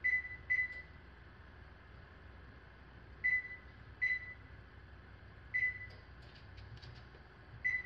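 An induction stove beeps as it is switched on in a home kitchen while peach jam is being made: short high electronic beeps in pairs, repeating every few seconds over a quiet room hum.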